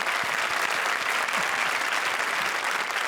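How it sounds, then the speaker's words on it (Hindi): A studio audience at a comedy show breaks into loud, dense, sustained applause for the performers, a steady wash of clapping with no pauses throughout. "जोरदार तालियां शान शकील के लिए।"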